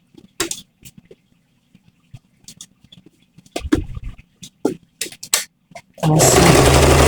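A sewing machine starts stitching a dress hem, a steady, fast mechanical whir at close range, after scattered handling taps and rustles of fabric with no speech.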